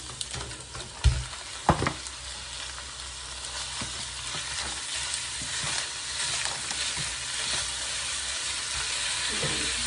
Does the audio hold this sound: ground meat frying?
yes